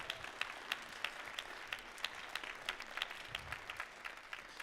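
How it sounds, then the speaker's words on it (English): A school concert audience applauds school administrators, a steady wash of clapping with distinct individual claps standing out, heard at a moderate distance. "Can we give a round of applause for all of our admin and all they do for the kids?"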